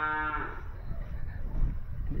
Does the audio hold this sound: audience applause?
no